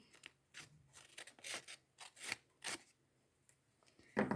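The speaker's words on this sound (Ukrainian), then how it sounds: "І обережно з ножицями відрізаємо." Scissors snip through paper to trim excess from an origami tank hull: a quiet, irregular series of short, crisp cuts and rustles, close by.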